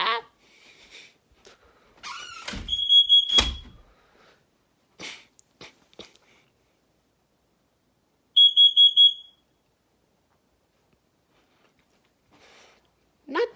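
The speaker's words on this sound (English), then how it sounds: "So the one we're actually testing is the First Alert CO400 carbon monoxide alarm." A First Alert CO400 carbon monoxide alarm being tested sounds in short bursts of high, piercing beeps: one cluster of rapid chirps early on and another several seconds later, separated by near silence with faint handling noises.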